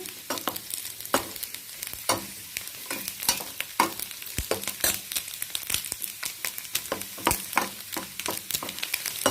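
Raisins and coconut crackle and sizzle in a hot pan while a spoon stirs in quick, irregular scrapes, fairly close.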